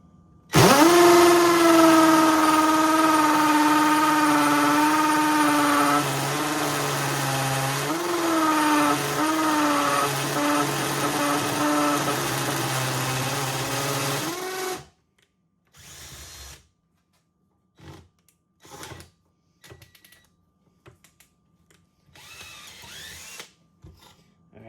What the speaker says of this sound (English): So this is hammer drill.